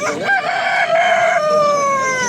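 A rooster crows loudly and close by at a poultry market in Izmir, one long drawn-out call with harmonic tones that holds steady and then fades.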